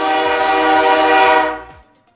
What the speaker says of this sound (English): it would just be basically just taking train sounds and stuff like that around to kind of mix it in